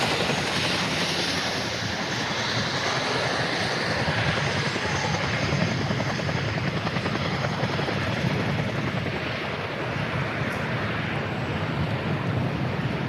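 A Chinook helicopter landing on the runway at the Farnborough International Airshow, its heavy rotor roar and engine whine continuous and loud, with wind buffeting the microphone.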